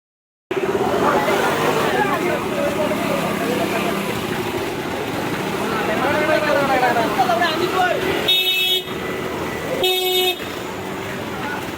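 Busy road traffic in a jam with a steady roar of engines, voices talking throughout, and two short car horn honks in the final seconds, the first near the end's start at about eight seconds.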